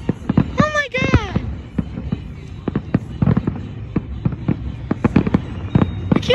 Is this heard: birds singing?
no